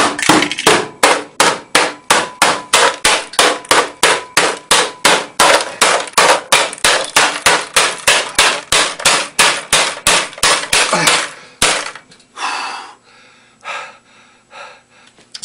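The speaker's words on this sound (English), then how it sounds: "smashing something with a ridiculously small hammer is an awful lot of work" A ridiculously small hammer strikes a hard drive again and again in a fast, steady rhythm of sharp, loud blows for about twelve seconds, then scraping and clattering follow.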